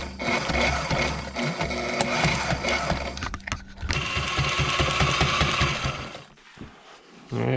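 A sewing machine stitches a tough leather seat for a 2019 250XC hard enduro motorcycle, steady loud mechanical hum and needle chatter that pauses briefly midway, then runs again before falling quiet.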